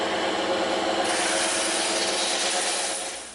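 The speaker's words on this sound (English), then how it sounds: "So we're gonna cut that out on the bandsaw." Bandsaw cutting through EVA foam end caps along a marked line, a steady, loud continuous buzzing rasp that holds evenly for about three seconds before tapering slightly at the end, with no talking.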